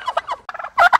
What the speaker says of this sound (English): I heard a turkey gobble